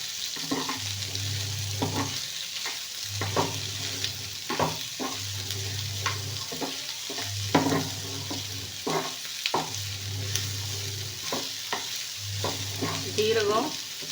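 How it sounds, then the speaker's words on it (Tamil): Cumin seeds and chana dal fry in oil for a chutney, a steady close sizzle broken by a regular stirring rhythm of scrapes and low clunks repeating every couple of seconds, with no voices. "ஜீரகம், கடலைப்பருப்பு இது எல்லாமே நல்லாவே வந்து வெந்துருச்சுங்க."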